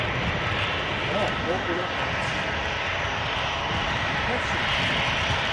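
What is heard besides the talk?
easyJet airliner arriving at Edinburgh airport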